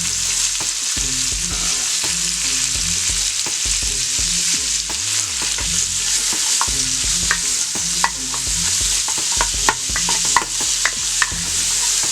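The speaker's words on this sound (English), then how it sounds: "You're going to mix those up in here just a little bit, get them nice and incorporated." Garlic and ginger frying in a pot for chicken and shrimp ramen soup, a constant close sizzle with repeated scraping stirs and occasional sharp clicks of the spoon.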